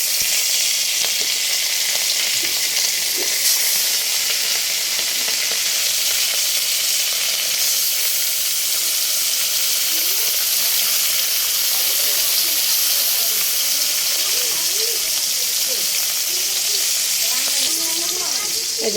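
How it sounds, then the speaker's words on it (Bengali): Hilsa fish frying in a pan after being coated with turmeric and chili, a steady close sizzle and hiss running the whole time with faint stirring clicks. "এই যে মাছগুলো সুন্দর করে ভাজে"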